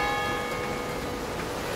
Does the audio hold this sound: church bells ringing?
yes